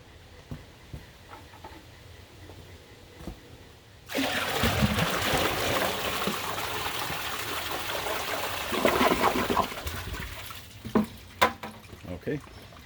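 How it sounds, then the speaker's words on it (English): An American Standard Tribor toilet is flushed by pouring in half a bucket of water: a quiet lead-in, then an abrupt loud rush lasting about six seconds, ending in scattered gurgles and drips. "here's the Tribor with a half bucket flush."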